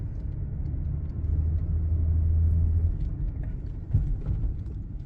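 Steady low engine rumble and road noise from inside a 2004 Lexus RX330 driving after a cylinder misfire repair, swelling slightly midway, with a faint bump or rattle near the end.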